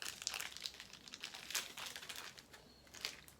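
A plastic mixing bag holding quick-setting epoxy for a stabilizer layup is pulled open, producing a soft, continuous crinkling and rustling up close with small louder crackles, and no one speaking.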